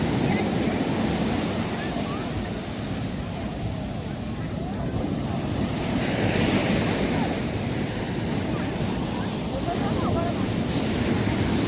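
Ocean surf washing onto Copacabana beach in Rio de Janeiro in a continuous roar, mixed with wind buffeting the microphone.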